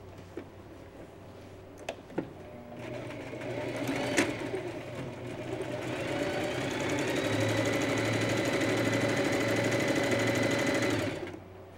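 An electric sewing machine stitches fabric for a sewing bag, starting with a few clicks and knocks, then running in a steady close mechanical whir that holds for several seconds before stopping abruptly.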